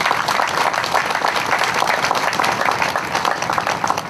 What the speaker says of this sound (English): Let's give them all a round of applause for that.